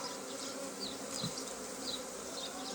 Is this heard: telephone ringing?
no